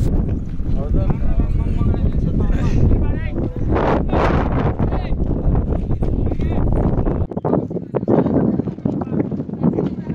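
Strong wind buffets the microphone on the hilltop of Mullayanagiri in Chikmagalur, a loud, constant low roar with gusts, while people talk over it throughout.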